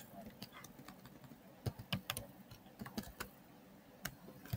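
Light, quick clicking of computer keyboard keys as code is typed, soft and irregular with a few louder keystrokes, while a voice talks throughout.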